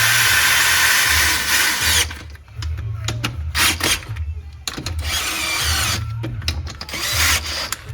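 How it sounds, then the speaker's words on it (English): A power drill spins bolts down flush on an ATV wheel hub during a Honda Foreman Rancher rear wheel bearing job, with several short whirring bursts separated by brief pauses, close and loud. "Let's get them all flush with the drill."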